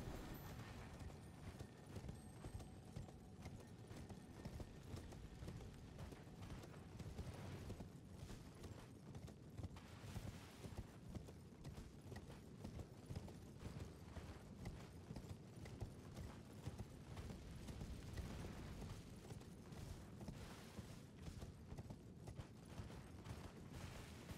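A horse gallops in a video game, a steady rapid clip-clop of hooves running on without pause, with faint mechanical creaks underneath.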